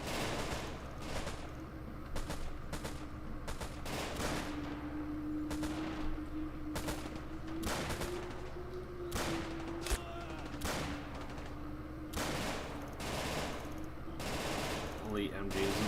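Sustained machine gun fire from elite MG teams in a video game battle, rapid bursts crackling continuously at steady loudness with short gaps and dense, overlapping volleys.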